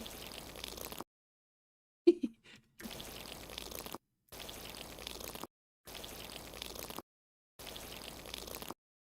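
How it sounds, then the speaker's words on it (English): Dripping water effect for a VR farming game, heard as four regular, steady bursts of watery noise separated by silent gaps, with one short sharp drip near the start. "Yeah, it's just dripping."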